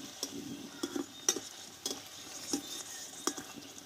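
Potato and wheat-flour snacks fry in a little oil with a soft, quiet bubbling sizzle, punctuated by a series of light clicking taps at irregular intervals.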